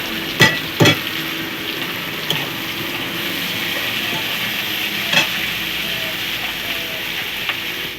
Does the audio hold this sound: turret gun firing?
no